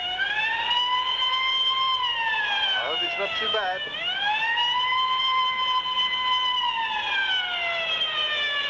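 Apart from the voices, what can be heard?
ambulance and police sirens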